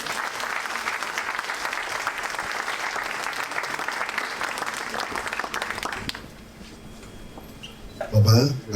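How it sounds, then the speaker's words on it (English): Enthusiastic audience applause at a birthday lecture in honor of a Nigerian elder, dense and loud for about six seconds, then dying down into room noise before a voice begins. "I want you all to give Baba a resounding round of applause."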